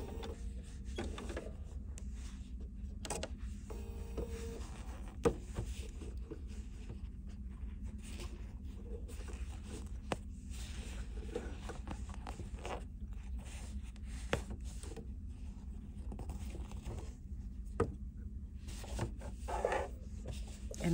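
A home sewing machine with a stitch regulator runs in a steady mechanical drone, stitching along marked lines for a steampunk quilted bag, with occasional clicks and brief pauses at corners; no one speaks.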